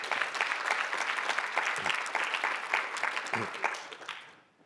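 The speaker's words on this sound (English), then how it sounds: "I wasn't expecting there would be applause" An indoor audience at an opening welcome claps in a dense, steady round of applause that holds, then tapers off and fades out at the end.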